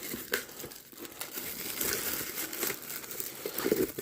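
A Black Bolt trading card pack is torn open by hand, with close crinkling and crackling foil and a few sharp ripping bursts, no talking.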